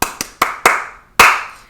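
Five sharp hand claps from a song ring out close and loud in an uneven rhythm: four quick ones, then a pause before the last, each with a short reverberant tail.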